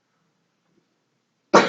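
A single short, sharp sneeze bursts out near the end after near silence.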